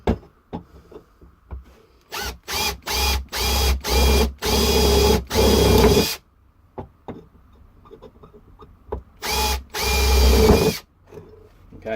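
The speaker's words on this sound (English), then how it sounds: "So now the screen's out, we can drill these holes out." A power drill whines in repeated short bursts, drilling holes in a Stihl 026C MS 260 chainsaw muffler, starting and stopping several times, close and loud, with small clicks and knocks between the runs.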